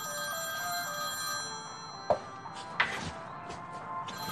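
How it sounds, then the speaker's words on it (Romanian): A telephone rings indoors with a steady electronic tone. It is joined by a couple of sharp knocks or clatters, and there is no talk. "telefonul."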